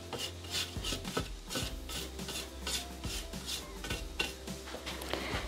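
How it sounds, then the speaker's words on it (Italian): A spatula scrapes steadily around the inside of a Thermomix bowl, producing a continuous, rhythmic rasping and rubbing that sounds close and fairly loud, with no voices. "Riunire sul fondo del boccale con la spatola"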